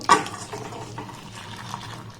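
A spoon stirs boiled milk into caramel in a steel bowl, giving a sharp clink at the start followed by soft scraping and gentle bubbling, close and moderately quiet with no speech.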